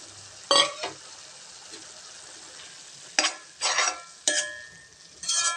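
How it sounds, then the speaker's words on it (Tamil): A spoon scrapes and stirs beaten egg through broad beans frying in a pan, heard as soft sizzling under a few separate close scraping bursts. "நல்லா கிளறி விட்டுக்கலாங்க."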